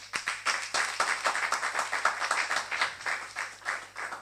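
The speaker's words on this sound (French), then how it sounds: "On acclame pour le Seigneur." A church congregation applauds for the Lord, a dense, steady patter of many hands clapping together at moderate distance, continuous across the whole stretch with a faint low hum beneath and no voices on top.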